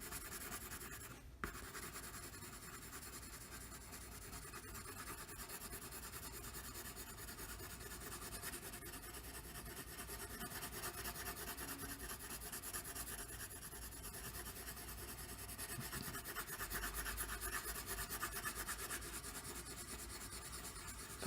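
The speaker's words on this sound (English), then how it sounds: "Now I'm going to start using the ebony pencil." An ebony pencil shades across paper, a steady soft graphite rasp that continues evenly throughout with a faint bump early on, close and quiet with no talking.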